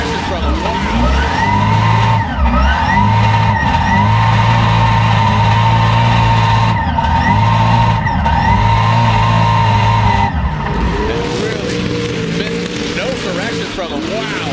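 Formula Drift competition car driven by Crick Filippi in Texas, its engine droning loud and steady near the limiter with tire squeal, then shifting pitch as it drops off throttle; a commentator talks over it throughout.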